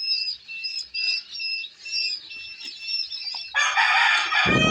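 Egyptian Fayoumi chickens on a hobby farm give a steady run of close, fairly loud clucks and chirps, and one bird breaks into a loud crow near the end.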